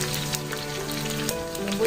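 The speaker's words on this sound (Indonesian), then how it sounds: "Bumbu yang dihaluskan kita goreng." Ground spice paste for nasi lemak sizzling in hot oil in a pan, a steady crackling fry with brief sharper pops, close and alone with no voices.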